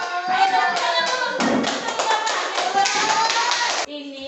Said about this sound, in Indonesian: Oke, tepuk tangan dulu untuk kita semua karena kita udah punya tanaman, udah rajin